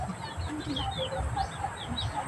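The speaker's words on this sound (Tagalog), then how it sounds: "Tingnan mo yung mga manok ko" Chickens cluck and murmur softly nearby, overlapping in a loose, continuous chatter over a low background rumble.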